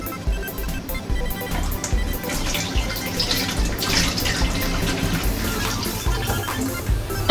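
Beer wort for a ghost pepper stout pours steadily into a 2-gallon fermenter, a continuous splashing gurgle with small drips and sloshes throughout.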